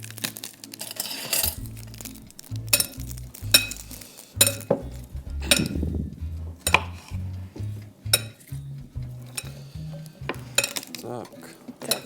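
Baked quince and potatoes tossed with salt in a dish, a close run of clinks and scrapes of utensil against the dish, irregular and busy, with short pauses between strokes.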